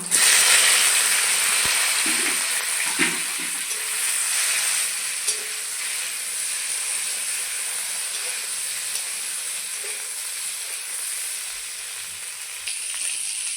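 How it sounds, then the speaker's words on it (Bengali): Taro pieces fry in hot oil in a wok, a loud continuous close sizzle and hiss with occasional faint stirring scrapes, no talk. "এখন দিয়ে দেবো কচুগুলো, ভেজে নেব।"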